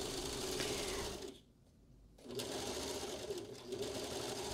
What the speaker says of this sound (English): So now we're going to have to do a whole lot of overlocking